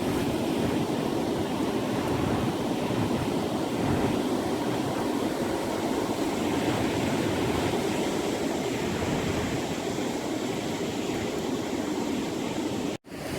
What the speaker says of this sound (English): you see that area over there with a lot of water in it and the waves just crashing against it?